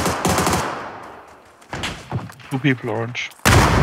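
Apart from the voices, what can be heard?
gunfire from a video game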